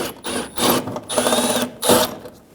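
A power driver backs out 7mm screws along the underside of the front bumper on a 2000–2007 Ford Focus, whirring in short, close bursts that rise and fall with brief gaps.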